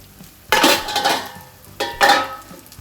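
Tomatoes stirred and fried in oil in a pan for a yam masala, two distinct bursts of scraping and sizzling about a second and a half apart, close and fairly loud, with quieter sizzle between.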